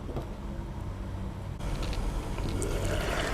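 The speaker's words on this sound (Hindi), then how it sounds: "अब इसमें हम डालेंगे 1/4 कप पानी" A quarter cup of water poured into a pan of chicken and chickpeas cooking over a flame, a steady sizzling hiss that grows louder and rougher partway through, close by with no talking.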